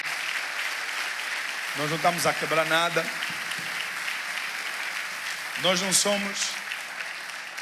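Steady clapping from a church congregation during a service runs throughout, with a preacher's voice speaking over it in two short bursts.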